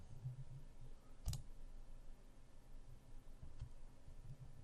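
Computer mouse clicks: one sharp, distinct click near the start and a fainter second click later, both close and quiet over a low background hum.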